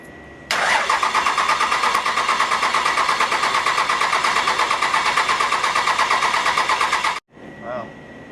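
1957 big rig's 650hp Cummins diesel engine cranking over with the throttle held open, a loud, close, rapid and even chugging that runs about seven seconds, then cuts off abruptly.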